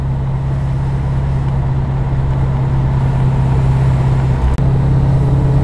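A 1982 Ford Fairmont XE ESP with a 5.8L V8 cruising along, its engine holding a steady, loud, low droning hum with road noise throughout.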